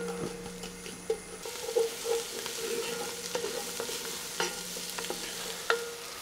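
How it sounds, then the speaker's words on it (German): Onions sautéing in melted margarine in a Dutch oven give a steady soft sizzle, with scattered stirring scrapes and clicks throughout, no voices. "Und wenn die Margarine dann geschmolzen ist, geben wir zuerst die Zwiebeln in den Topf."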